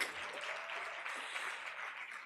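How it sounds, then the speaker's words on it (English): Applause from an awards-evening audience for the winners, a continuous even patter of many hands clapping at moderate distance, steady throughout and without speech. "A round of applause to all our winners who've won so far this evening."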